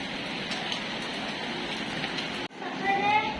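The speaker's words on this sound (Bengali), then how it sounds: "ভালো বৃষ্টি হচ্ছে" Steady rain falls in a continuous, even hiss for about two and a half seconds, then cuts off briefly before resuming with faint tonal sounds mixed in.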